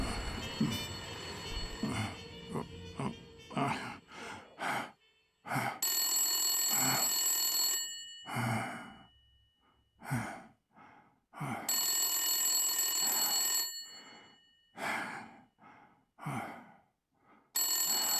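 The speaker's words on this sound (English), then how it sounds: "Phone call for you, Mr. Blacksad." A telephone rings in the detective video game Blacksad: Under the Skin, long repeated ring bursts separated by pauses, mixed with short in-game sounds and breaths.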